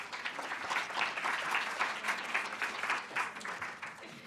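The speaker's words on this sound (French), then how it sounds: "On l'applaudit, s'il vous plaît." Conference audience applauding at the closing of a French nonprofit event, a moderate, somewhat distant round of clapping with audible individual claps, swelling slightly and then easing off toward the end.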